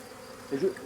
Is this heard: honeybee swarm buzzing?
yes